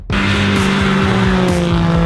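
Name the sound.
Mercedes A45 AMG engine revving on the throttle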